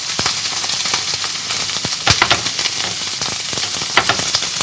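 Sardines fry in a hot griddle pan with a dense, steady sizzle and crackle, broken by sharper spits and pops as the fish are turned.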